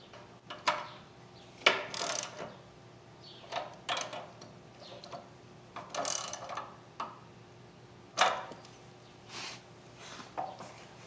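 Small screws being tightened onto a Predator 212 engine's air filter adapter, heard as scattered ratcheting clicks and short metallic turns in separate bursts, close by and fairly quiet.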